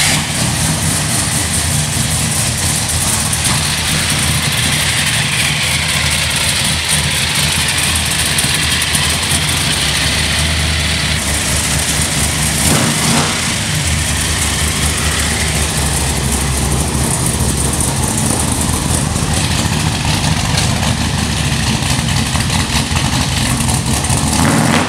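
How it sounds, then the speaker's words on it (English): A big supercharged V8 engine in a 1967 Chevelle rumbles steadily at idle, deep and loud, with a few throttle blips and no voices over it. "let you hear the engine run, give you a little exhaust note"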